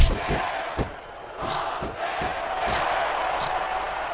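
Crowd cheering and chanting in the arena of the wrestling video game SmackDown vs Raw 2006, a loud continuous roar with rhythmic surges and shouts rising throughout.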